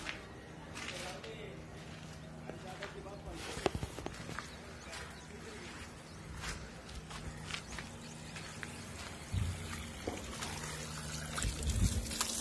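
Water sprayed over freshly finished plaster on a house under construction to cure it: a steady trickling hiss of water with scattered footsteps and a low machine hum, continuing for the whole stretch.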